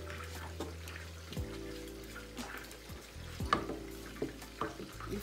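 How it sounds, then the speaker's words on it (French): Stirring a thick plantain and yam fufu paste in a pot gives soft, wet sloshing and scraping that repeats steadily, close and moderately quiet, with a faint sizzle underneath. "il faut continuer à remuer."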